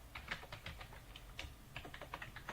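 Rapid, uneven keystrokes on a computer keyboard, close and fairly quiet, with clustered bursts of clicks and short pauses as a short phrase is typed out.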